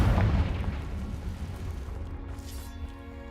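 Confringo fire spell erupts in Hogwarts Legacy with a heavy, loud boom up front, then a rumbling, crackling tail that gradually thins out, with faint tonal game sounds emerging near the end and no talking.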